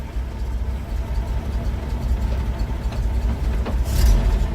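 A Studebaker US6 truck engine idles quietly, heard from inside the cab with the hood open, a smooth low hum that holds steady, with a brief louder burst near the end.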